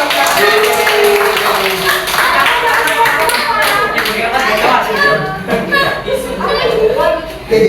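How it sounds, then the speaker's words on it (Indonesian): Classroom students clap their hands together in a sustained burst of applause, mixed with cheering and lively chatter throughout. "Tepuk tangan dulu."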